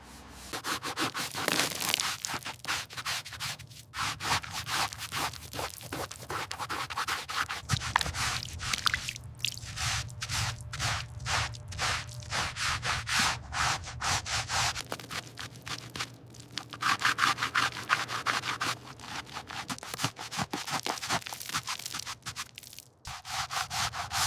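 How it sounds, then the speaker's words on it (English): Continuous scratchy scraping and rubbing, steady and close, with gritty crackling bits as stiff bristles grind hardened mud off a white Ford Mustang GT. "time to tackle this hardened mud. You can hear it cracking right off."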